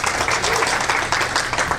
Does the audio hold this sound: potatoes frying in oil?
no